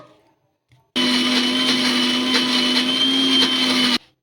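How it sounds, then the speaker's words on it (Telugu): A kitchen mixer grinder whirs loudly for about three seconds, grinding ingredients with a little water into a smooth paste, a steady high motor drone starting and stopping abruptly after near silence. "కొంచెం వేసుకొని మెత్తగా మిక్సీ అయితే పట్టేసుకుందాము"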